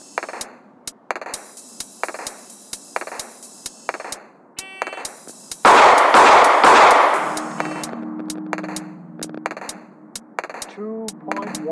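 A Ruger LCP subcompact pistol fires sharp, loud reports in short spaced bursts at a shooting range, several rounds in quick groups separated by pauses, with a brief stretch of louder noise and some talk partway through.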